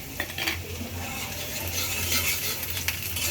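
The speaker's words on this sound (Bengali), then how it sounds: "তেলটা ভালো করে গরম করে এখানে আদা কুচি আর রসুন কুচিটা দিয়ে দিলাম" Chopped ginger and garlic frying in hot oil in a pan, a steady broadband sizzle with a low hum beneath and a few faint clinks of a utensil, continuous and close for the whole stretch.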